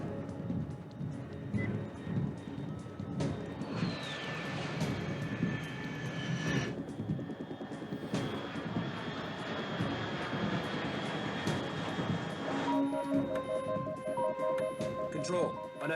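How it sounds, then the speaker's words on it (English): Aircraft engine droning overhead in the video game Metal Gear Solid 3, a steady roar that holds for the whole stretch beneath game sound effects and spoken dialogue. "Unidentified aircraft detected."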